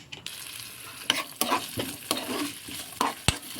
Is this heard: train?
no